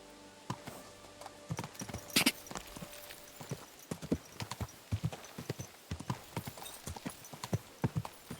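Horse hooves clip-clopping on a road in the medieval game Kingdom Come Deliverance 2: a steady, close, crisp rhythm of hoofbeats that picks up pace, with a brief jingle of tack near the start.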